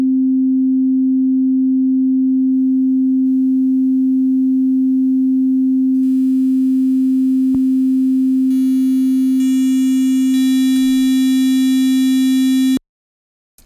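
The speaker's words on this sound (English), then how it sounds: "And now I will use the redux effect for reducing the bit depth." A steady pure sine test tone is run through a redux bit-depth reduction effect, and a hissy, buzzy noise floor swells in steps beneath the tone until everything cuts off abruptly.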